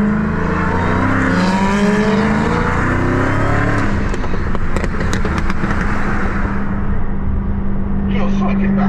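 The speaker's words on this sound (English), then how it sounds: "Your fucking backfires sound crazy." A Chevy Corvette C6 ZR1 or Dodge Charger engine revs hard and steadily up close, with a string of sharp crackling backfire pops toward the middle, while people talk over the noise.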